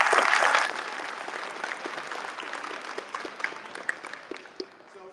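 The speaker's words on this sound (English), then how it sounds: "So let's go ahead and give them a round of applause for them." A pop culture expo audience bursts into loud applause for guests on stage, then it thins into scattered, fading claps with a few sharper individual hits near the end.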